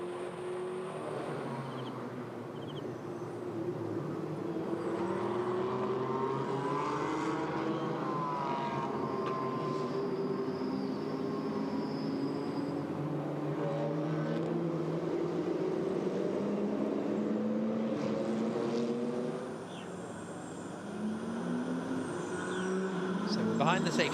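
GT4 race cars circulate behind the safety car in an SRO GT Cup round at Zhuhai, engines droning and shifting in overlapping sweeps, moderately distant, with commentary voices over them.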